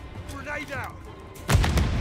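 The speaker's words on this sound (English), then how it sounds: "Grenade out!" A grenade goes off in Call of Duty MWIII: a brief voice is heard first, then a sudden loud, rumbling blast that keeps booming to the end.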